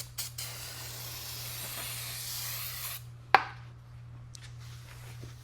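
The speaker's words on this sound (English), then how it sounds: "we're gonna use a brake cleaner. You spray it off and wipe it down" A steady broadband hiss of aerosol brake cleaner spraying grease off Toyota 4Runner brake parts runs for about three seconds, then cuts off, followed by a sharp click and quieter handling noises.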